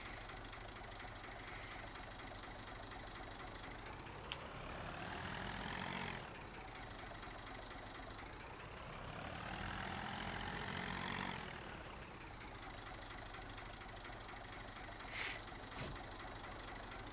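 Tractor engine idling in Farming Simulator 19, a steady low rumble with two stretches of rising revs that swell and fall back, plus a couple of brief clicks near the end and no talking.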